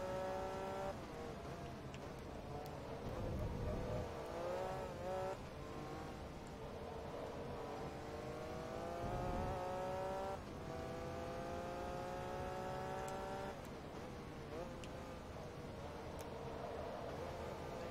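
Race car engines from the Forza Motorsport 2 video game during an S class endurance race, revving and shifting through gears in rising, whining tones that continue steadily throughout with no talking.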